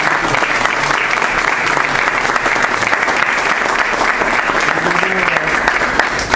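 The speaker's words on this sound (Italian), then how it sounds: "Un applauso a Sua Eccellenza." A hall audience applauds steadily and loudly at a church gathering for a visiting bishop, with dense, even clapping filling the whole stretch.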